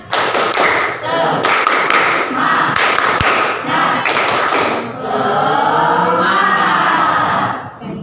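A classroom of children performs tepuk semangat, a rhythmic clapping chant led by a teacher: bursts of loud, sharp group claps in a patterned beat, then a stretch of chanted voices near the end.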